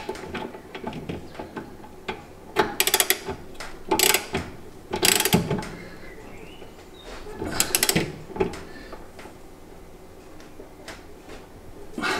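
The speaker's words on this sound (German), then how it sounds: "Jetzt fangen wir aber erst an, hier die 2 große Schrauben hier mit 120 Newtonmeter anzuziehen." A torque wrench tightening two large bolts to 120 Nm on the rear axle rubber mount of a Mercedes SL R107 classic car: bursts of close ratchet clicking separated by pauses, with metallic handling clatter and no speech.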